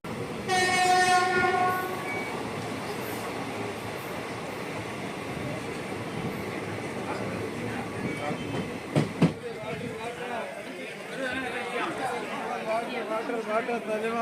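Passenger train pulling into Virudhunagar Junction, with a loud horn blast at the start, then steady rumbling and rattling of the carriages and a few sharp clanks, under crowd chatter on the platform.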